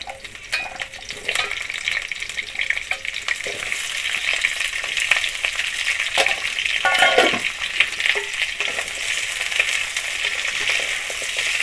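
Chayote squash and ginger frying in hot oil make a continuous, moderately loud hiss and crackle, with stirring scrapes and a few brief louder bursts of sizzle.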